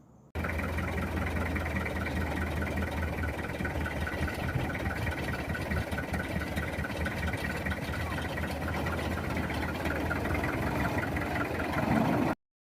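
A truck engine labors steadily as it climbs a steep hill slowly, a continuous low rumbling drone held at even loudness throughout.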